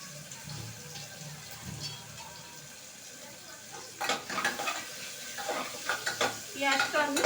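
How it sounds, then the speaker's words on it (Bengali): Onion frying gently in a pan on low heat, a faint sizzle and hiss for several seconds, then a run of nearer scraping and stirring strokes against the pan toward the end. "পেঁয়াজটা আমি একদম হালকা আঁচে সিম করে ভেজে নেব।"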